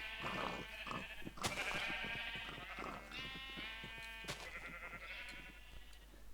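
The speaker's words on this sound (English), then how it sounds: "Bloody noisy sheep." Several sheep in Minecraft bleat repeatedly in overlapping, wavering calls, fairly close and loud, with no voices.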